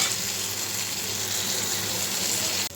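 Tomatoes sizzle steadily in a hot pan with a continuous, close, even frying hiss that carries on without pause until it cuts off abruptly at the end.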